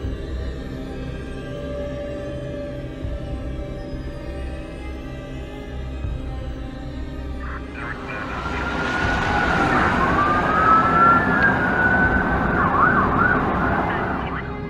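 A police siren in an animated SpongeBob scene rises out of low rumbling background noise partway through, wailing loud and continuous as the cops arrive, with no talking.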